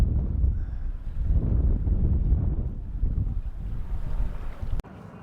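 Wind gusts across a fishing dock in Massachusetts, a low buffeting rumble against the microphone that rises and falls steadily, then cuts off abruptly near the end.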